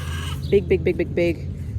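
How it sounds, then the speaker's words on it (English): A short run of clucks, five or so quick bursts in a row, fairly close, over a low background hum. "You can hear the chickens."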